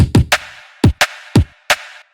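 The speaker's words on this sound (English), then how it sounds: "Then we have a snare." Snare drum in a liquid drum and bass track, sounding as bright, snappy cracks with a short ringing tail, played in a syncopated pattern alongside low thumps, loud and close.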